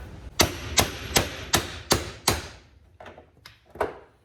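Heavy hammer blows striking a VK Commodore's left rear car door, about eight sharp metal impacts at a steady pace, the last few softer and more spaced, close by.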